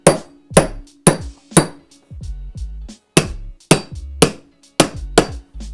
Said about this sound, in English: I like to take my hammer and my tucker